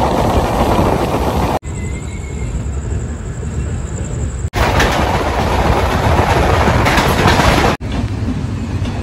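A passenger train runs on rails toward Howrah, loud steady rumble and rattle of the carriages heard from inside, interrupted by brief cuts, with a faint whistle-like tone in one stretch; no talk.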